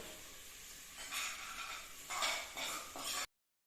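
Roasted vermicelli tipped from a pan into a cooking pot, a dry rustling scrape with a few short bursts of pouring and clinking, close and moderately loud with no speech.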